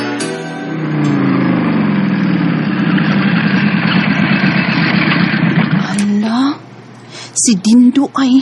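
A motorcycle engine idles steadily at close range with a low, even rumble, then shifts and cuts out near the end amid brief voices.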